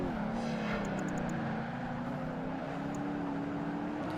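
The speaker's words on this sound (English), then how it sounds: "I'm going to get caught by the Ferrari now." A Ferrari F40 racing car engine in the video game Project Gotham Racing 2 drones at a steady high pitch that rises and shifts slightly, loud and continuous throughout, with no talk.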